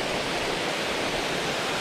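A waterfall on a mountain stream roars as a dense, steady wash of broadband noise, close and unbroken throughout, with no voices.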